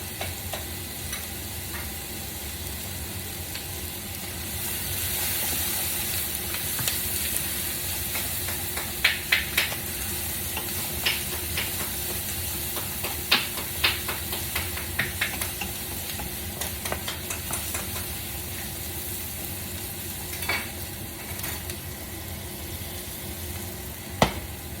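Vegetables sizzle and hiss steadily in a pot that was just used to brown sausage for a rustic potato and sausage soup, with the scrape and clatter of stirring breaking through the frying now and then, and no voices.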